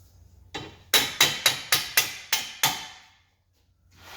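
Hammer tapping a transverse arm bolt through the hub of an Alfa Romeo rear suspension, about eight sharp metallic blows in a quick, even rhythm, close and loud, with no talk.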